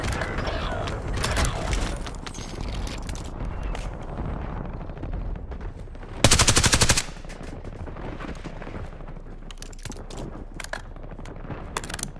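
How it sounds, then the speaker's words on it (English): Weapon handling and reloading in Black Ops 6 Warzone on Verdansk, with mechanical clicks and rattles amid rapid gunfire, a loud burst of shots near the middle, and busy battle noise throughout. "Reloading!"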